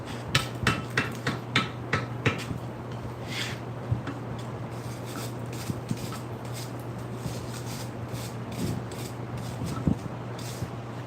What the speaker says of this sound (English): Start hammering them up.